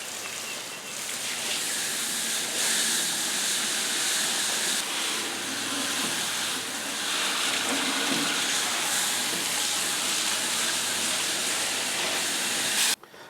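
A water sprayer hoses down a home A/C condenser, producing a loud, steady spraying hiss that runs unbroken until a brief cutoff at the end.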